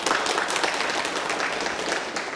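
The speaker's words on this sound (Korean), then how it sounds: "자, 큰 박수 부탁드립니다." Audience in a Korean Buddhist dharma talk hall breaks into sustained applause, a dense, even patter of many hands clapping throughout.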